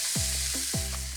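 Onion and carrot frying in a pan for a meat pie, a steady close sizzle with a few brief stirring movements over about a second.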